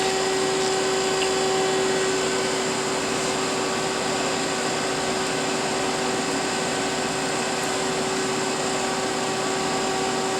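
A March Instruments PX-250 plasma etcher pumps down, giving a loud, unbroken mechanical hum with steady tonal whines that hold level throughout.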